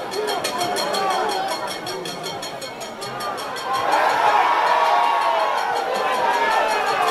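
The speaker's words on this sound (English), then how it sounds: "Crowd appealing for a penalty there." Football crowd at a Waterhouse FC vs Mount Pleasant FA match appealing for a penalty, a distant rising roar of shouting spectators that swells partway through, with a commentator talking over it.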